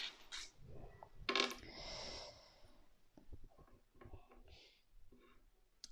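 Small charms are dropped onto a surface for a divination reading, a quick clatter of light metallic clinks near the mic, followed by a few softer taps and some breathing.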